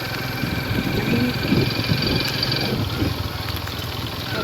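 A motorcycle engine runs steadily at a low, rumbling pitch on a windy beach, loud and continuous, with a broad wash of wind and surf noise over it.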